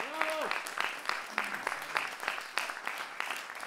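Audience applause at a jazz quartet concert, a steady wash of clapping with faint voices and a few tonal notes in the background.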